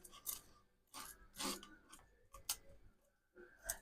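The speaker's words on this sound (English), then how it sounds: "grab handy pink spatula and just push them through" A pink spatula pushes stubborn lumps of chocolate cream cheese brownie mixture through a sieve, making faint, intermittent scraping and rasping strokes in short bursts separated by quiet gaps.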